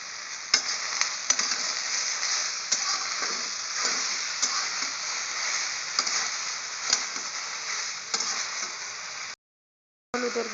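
Sweet bitter gourd fries with turmeric and salt in a pan, giving a steady, even sizzle with occasional clicks of stirring, and a brief silent gap near the end.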